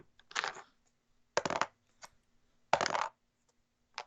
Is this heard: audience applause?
no